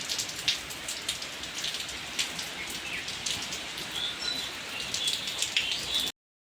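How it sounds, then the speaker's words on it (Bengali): Heavy rain pours steadily during Cyclone Remal, a dense continuous patter on surfaces with occasional heavier drips, and faint bird calls come through now and then. "এত বৃষ্টি হচ্ছে"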